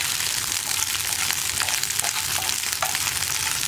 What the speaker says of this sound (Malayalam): ഈ വെളിച്ചെണ്ണയിലേക്ക് നമ്മൾ കട്ട് ചെയ്ത് വെച്ചിരിക്കുന്ന വെണ്ടയ്ക്ക ചേർത്ത് കൊടുക്കാം. വെണ്ടയ്ക്ക ഒന്ന് നന്നായിട്ട് വഴറ്റിയെടുക്കുക.